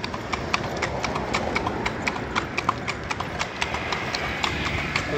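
Steady clip-clop of a horse-drawn bendi cart's hooves on a hard road in Padang, a regular rhythm over constant background rumble and noise.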